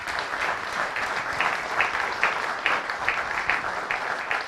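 Church congregation applauding a welcomed guest, a steady dense wash of clapping with rhythmic accents, fairly close and continuous throughout.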